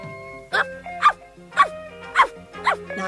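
A puppy yaps five times in short, high barks at an even pace, close by, over a soft tonal background.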